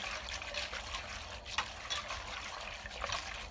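Milk pudding with papaya is stirred in a pot on a lit stove, giving soft, close liquid swishing and light spoon scrapes in an uneven rhythm, with no talk.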